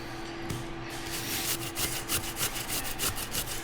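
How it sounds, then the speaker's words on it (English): Jicama being grated by hand into a pulp, giving steady rhythmic rasping scrapes close up, repeating strokes with no talking. "we're just going to keep grating this until it's down to a pulp"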